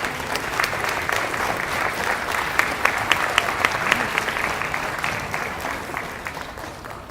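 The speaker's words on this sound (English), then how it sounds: "Let's give a round of applause to our Choya Color Guard." An audience at a Native American student recognition event applauds the Choya Color Guard, a moderate, steady patter of clapping with a few sharper individual claps standing out, fading slightly toward the end.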